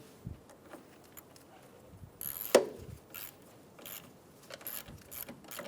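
A hand ratchet snugs down a battery cable bolt on a 2007-2011 Toyota Camry, giving faint, quick clicking bursts with one sharper metallic knock, close and quiet.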